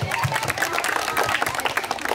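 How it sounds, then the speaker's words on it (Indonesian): Crowd applause at an outdoor skate event on Pulau Pramuka, Jakarta: dense, lively clapping from many people throughout, with shouts and cheering mixed in. "Tepuk tangan dulu."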